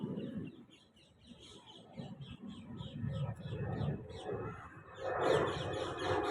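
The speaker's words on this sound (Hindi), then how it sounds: "ये देखो कोयल की आवाज़" Birds chirp and call outdoors in Delhi during rainy weather, with repeated tonal calls fitting a koel among other birdsong, moderately near, while someone talks over much of it and the calls grow louder toward the end.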